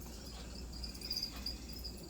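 Feeder crickets chirp in a steady series of high, thin trills, indoors and fairly faint, with a low background hum underneath.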